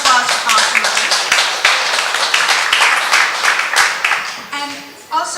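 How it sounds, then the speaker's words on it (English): An audience at a legal tech innovation event applauds a sponsor, Thomson Reuters, with a sustained round of clapping that thins out near the end, with voices mixed in underneath. "So round of applause for Thomson Reuters."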